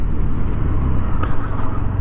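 Honda Activa 125 scooter accelerating hard from a standstill toward 60, a loud, close engine drone with road and wind rumble, no voices.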